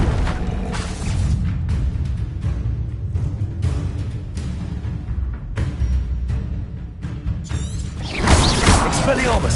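Confringo fire spell explosions in the Hogwarts Legacy video game make a dense, loud barrage of booms and rumbling blasts that runs almost continuously, with a sharper burst near the end.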